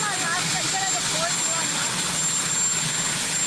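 Steady broadband roar of an airplane engine, loud and unbroken, filling the background without pause.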